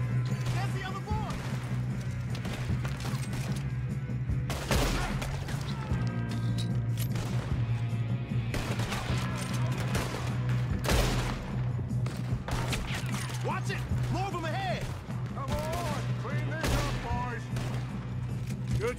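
A gunfight in the western video game Red Dead Redemption 2, with repeated loud gunshots and bursts of rapid fire over a steady low rumble of game ambience, while character voices speak between the shots.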